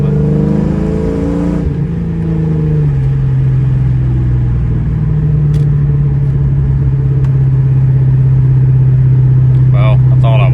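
A New Edge Mustang GT V8 drives along a wooded road with a loud, deep, steady engine drone that drops in pitch as the revs ease off, and someone talks over the start.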